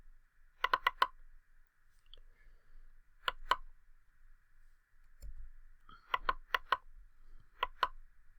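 A computer mouse clicks sharply and close up in quick clusters, a run of four, then a pair, then four more and a final pair, against a quiet background.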